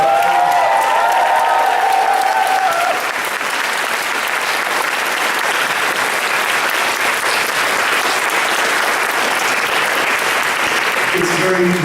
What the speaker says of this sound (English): Please cheer.